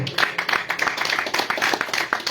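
A church congregation clapping hands loudly during a worship service, a dense, rhythmic, steady beat of many hands, close and strong throughout, with faint voices mixed in.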